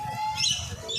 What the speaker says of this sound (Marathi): भरपूर पक्षी आहेत.